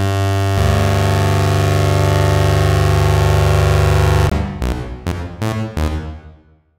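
A sustained synthesized tone processed through a reverb effect exported from Max RNBO and running in HISE rings loudly, then breaks into several stuttering bursts whose reverb tail decays away to silence.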